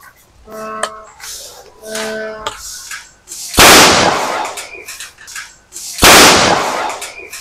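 A homemade bamboo boga cannon fires twice outdoors, each a loud booming burst with a noisy tail, after a couple of short electronic beeps and some rustling handling sounds.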